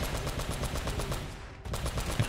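Shotgun fire from the Uncharted: Drake's Fortune video game, dense bursts of blasts and rapid gunfire packed closely together, loud and continuous with a brief lull before the shooting resumes.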